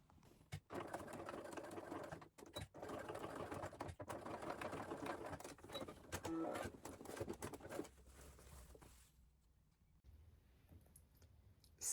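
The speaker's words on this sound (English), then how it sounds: "I'm just going to do a couple of stitches forward and back there just to secure it." A sewing machine stitching forward and back to secure an appliqué patch on a child's trouser knee: steady close mechanical whirring and rapid clicking for about eight seconds, then it stops and leaves a quiet room.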